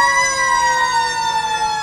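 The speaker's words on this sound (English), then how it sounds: "the sirens are going by in town" Emergency vehicle sirens wail steadily during a veterans parade in the town of Paris, loud and continuous with a sustained, slightly shifting pitch as they pass.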